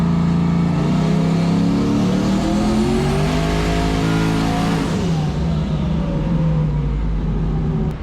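Fox-body car engine revving hard on a dyno as boost is turned up, a loud continuous roar that climbs steadily in pitch and then eases, with no talk over it.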